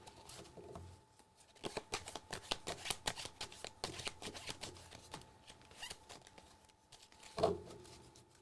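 Tarot cards are shuffled by hand for a one-card reading, giving a quiet, close run of rapid riffling and papery flicks in uneven bursts, ending with a slightly louder snap.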